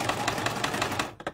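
A sewing machine stitches at a rapid, even rhythm, fairly close and loud, with its thread tension set around 2.5, then slows to a few separate thumps as it stops.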